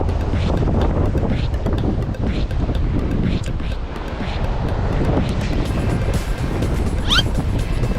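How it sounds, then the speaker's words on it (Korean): Strong gale buffeting the microphone at a seaside fishing spot by the Yeongdo Maritime Museum in Busan, a loud continuous roaring rumble with gusty surges throughout and no clear voices. "야 바람 죽인다"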